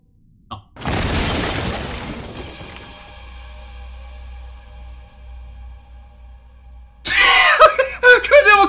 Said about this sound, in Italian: è esploso tutto!